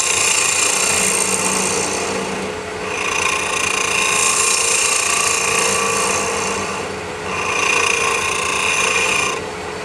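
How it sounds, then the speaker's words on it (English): A lathe tool cuts spinning cocobolo wood with the bevel rubbing, giving a steady close scraping, rasping hiss that fades briefly and swells again twice as the cut moves along the piece. "I'm applying pressure to the piece by rubbing the bevel."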